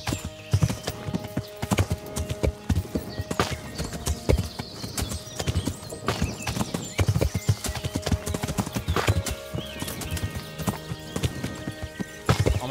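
A horse's hooves clip-clop in the video game Kingdom Come: Deliverance, an uneven run of close, loud hoofbeats over a game soundscape, with an occasional whinny and no talk.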